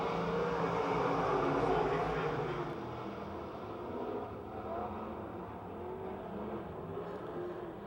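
Race cars roar around Pennsylvania Motor Speedway in Pittsburgh, a broad, continuous engine drone that swells early and then settles, with a commentator's voice talking over it.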